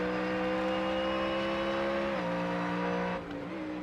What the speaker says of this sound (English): Do you like the sound of the Ford?